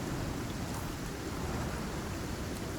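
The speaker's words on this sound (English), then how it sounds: "rain is almost over." Steady, even rain falls in the survival game Icarus, a dense continuous hiss with no breaks and no voices.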